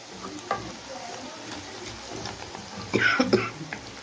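Onions fry in a pan for Egyptian koshari, giving a soft, steady sizzle with a few stirring scrapes and clinks near the end, while someone talks over it.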